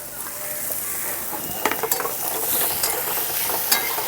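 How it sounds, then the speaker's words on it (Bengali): Vegetables stir-fried in a wok over high flame for veg momo filling, a continuous loud sizzle broken by scraping and clinking of a spatula against the pan. "হাই ফ্লেমে কিছুক্ষণ ফ্রাই করে নেব ভেজিসগুলোকে"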